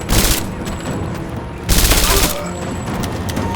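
Rise of the Tomb Raider firefight: dense volleys of gunfire crackle and boom in two heavy bursts, with continuous rapid shots rattling between them at close range.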